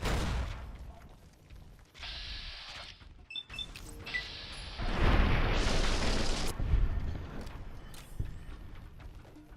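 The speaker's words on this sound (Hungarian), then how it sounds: "Az is megdöglött a robbanásba, helyes." Explosion in the video game Fallout: New Vegas, a rumbling blast with crackling debris that swells and holds for several seconds amid other game noises, with no talk.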